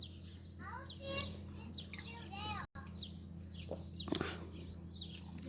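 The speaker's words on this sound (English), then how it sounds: "leave that chicken alone." A chicken clucks in short bursts outdoors, fairly faint and mixed with children's voices and people talking nearby.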